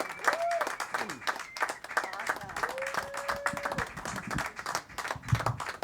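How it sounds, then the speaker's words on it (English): A stand-up comedy show audience claps and applauds steadily throughout, with cheering and whoops rising over the clapping. "round of applause for Jaden and Long John and Brian."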